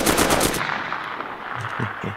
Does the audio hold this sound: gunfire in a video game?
yes